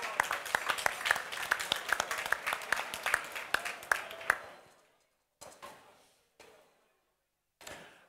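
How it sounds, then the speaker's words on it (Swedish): Audience at a chef cooking competition semifinal in Växjö applauding a finished contestant: several seconds of close, distinct clapping that thins out, then a few scattered claps trailing off. "Applåd för Sebastian Turesson som nu är klar"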